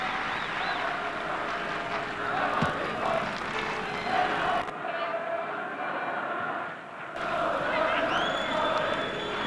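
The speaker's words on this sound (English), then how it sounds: "And applause for Leonard Nielsen" Distant stadium crowd applauding and roaring at a 1982 World Cup qualifier football match between Holland and Ireland, a broad steady wash of noise beneath a commentator's voice.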